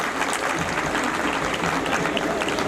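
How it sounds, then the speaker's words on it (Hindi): Steady, dense applause from an audience at a school annual function, a continuous wash of clapping filling the hall. "तो एक बार जोरदार तालियां मेरे टीचर्स के लिए।"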